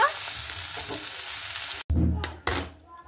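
Spinach frying and being stirred in a pan, a steady hiss of sizzling with a brief break partway, then louder scraping and bubbling bursts close by, no talk.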